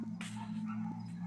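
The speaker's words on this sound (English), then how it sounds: "Why is the dog barking right there?" A dog barks in a few short, distant yips over a steady low hum, coming from played-back horror footage.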